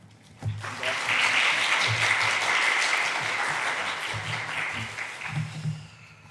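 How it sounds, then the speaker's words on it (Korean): A church congregation bursts into applause to welcome a guest speaker, a dense round of clapping that swells quickly, holds steady, then tapers while a few voices murmur and talk underneath. "박수로 환영해 주시기 바랍니다"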